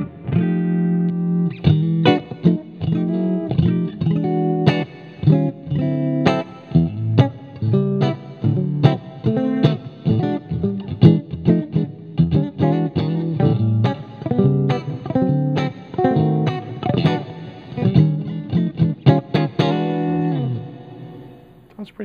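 Electric guitar from a JEM clone played through a Randall XL T100 4x12 cabinet with plate reverb, a busy run of picked notes and chords, moderately loud and close, with a slightly driven, ringing tone and no talking.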